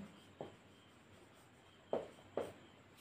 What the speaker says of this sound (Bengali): ঠিক আছে, এটা প্রমাণিত লিখে দেবো।